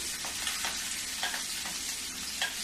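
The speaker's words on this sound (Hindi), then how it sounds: "अब इसको मैं थोड़ी सा भूनूंगी।" Garlic cloves and two green chillies sizzle steadily in a hot pan, with soft scraping stirs breaking through the frying hiss at irregular moments, close up and without any talking.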